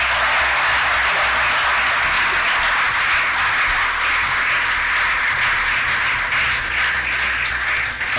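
A speech audience breaks into sustained applause, a dense, even wash of many hands clapping that runs loud and steady throughout without any voices over it.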